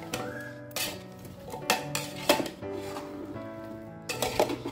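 Mango pickle pieces being stirred with oil in a metal vessel, a close run of scraping clanks and clinks as the spoon strikes the pot, coming in short irregular bursts with brief pauses between.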